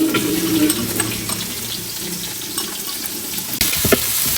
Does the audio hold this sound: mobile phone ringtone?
no